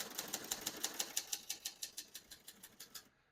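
Rapid, evenly paced keystrokes clatter on a 1969 Hermes 3000 portable typewriter, about eighteen crisp clicks in a steady rhythm, close and clear, stopping abruptly.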